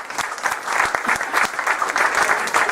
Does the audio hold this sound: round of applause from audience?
yes